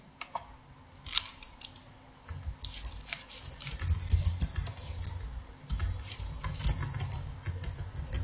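Typing on a computer keyboard while filling in name and address details in an online form, bursts of quick light key clicks with short pauses, close and fairly quiet, no voices.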